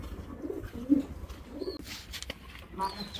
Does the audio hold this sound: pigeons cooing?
yes